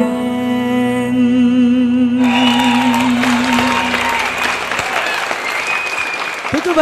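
Audience applause after a singer's stage performance with a dance troupe, steady dense clapping that starts under lingering music and swells into a full ovation filling the hall.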